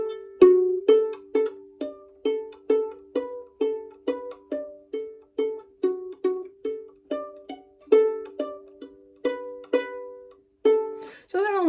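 Irish jig tune played on solo fiddle at a steady lilting pace, with an A substituted at each varied note, bowed notes close and clear in a continuous rhythmic run with no talk.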